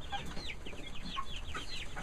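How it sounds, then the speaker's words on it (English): Larger chickens in a mobile chicken tractor cluck and chirp repeatedly while pecking at their food, a lively close-up run of short calls with no talking. "Here are my bigger chickens eating their food."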